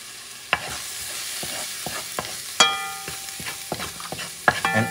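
Rice for Puerto Rican arroz mamposteao, sprinkled with ground annatto, is stirred in a hot pan, with repeated spoon scrapes and clicks over a low continuous sizzle, close up and without speech.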